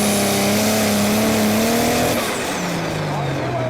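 A Sigma Power prostock pulling tractor's engine roars loud and close with a strong droning tone that rises, then drops in pitch as the run winds down at a tractor pulling event, with an announcer speaking over it.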